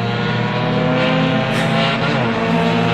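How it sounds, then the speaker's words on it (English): A loud, rough race car engine roar with a raspy, unmuffled edge from a lost exhaust, steady throughout as the car passes close by at Silverstone during a Mini Se7en race. "sounds like someone's lost their exhaust actually there"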